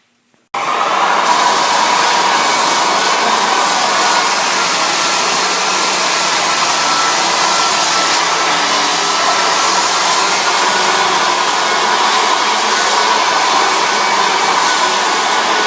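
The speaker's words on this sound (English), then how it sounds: "finished with the 36 grit sandpaper all the way around" Floor sander fitted with 36 grit sandpaper running over a wood floor, a loud steady broadband whir that starts abruptly after a brief pause and holds constant to the end with no talking.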